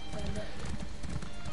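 Horse hooves gallop in the video game Elder Scrolls Online, a quick, regular clip-clop rhythm of a sprinting mount heard close and continuous.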